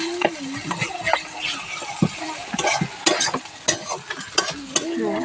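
Food fries in a pan with a low sizzle under frequent clinks and scrapes of a spatula against the metal, a busy, irregular series of close stirring strokes.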